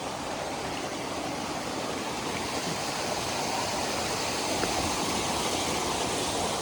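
The Dev Jharan waterfall roars as a steady, loud, broadband rush of falling water with no let-up, close by and heard alone.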